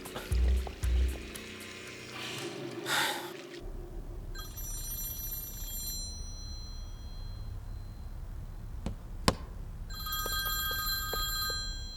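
A telephone rings in a Chinese drama, sounding in two bursts of bright, repeating electronic tones that start and stop within a quiet room, separated by a sharp knock.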